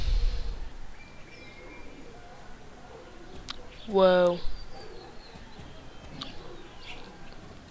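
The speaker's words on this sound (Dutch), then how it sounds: "hoor ik overal vogeltjes en zo" A single bird call in a video game sweeps downward midway, with faint scattered chirps over a soft background and a brief voice.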